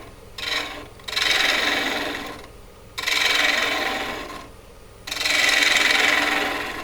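Hand-held cutting tool biting about a quarter inch into a spinning workpiece, heard as three long, close scraping passes of rasping noise with brief pauses between them.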